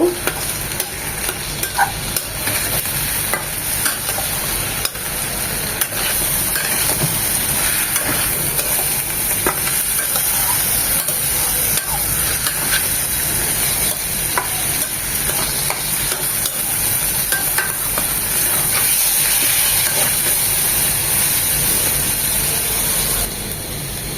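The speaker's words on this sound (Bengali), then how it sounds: "তিন থেকে চার মিনিট ডালটাকে ভালোভাবে ভেজে নেব" Steady sizzling and frying of lentils in a pan, with occasional scraping stirs, continuous and close for the whole stretch.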